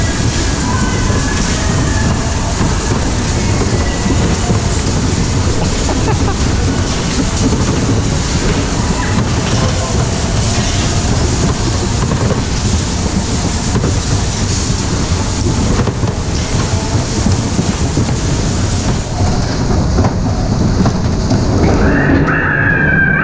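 Heritage fairground ride train with old cars running on rails, a continuous dense rumble and clatter that stays loud throughout, with brief voices near the end.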